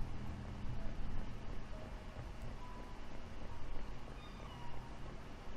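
A pet cat meows faintly at intervals indoors, small calls buried in a dense, steady background noise with no talk.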